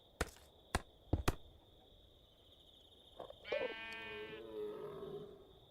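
A sheep bleats once in the Minecraft RLCraft video game, a clear nasal bleat after several sharp percussive clicks, with a steady high tone running underneath.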